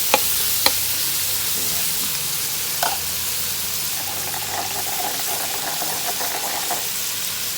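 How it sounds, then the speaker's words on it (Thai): Eggplant being stirred and fried in a spicy squirrel curry, a steady loud sizzle with occasional sharp clinks of a utensil against the pan, no talking. "ก็มะเขือผมใส่ลงไป คนๆคนๆ"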